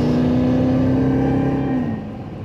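A 2018 Jeep Grand Cherokee Trackhawk, a repairable salvage vehicle, accelerates at about quarter throttle, its engine a loud, close, steady drone with a rising tone that drops off near the end.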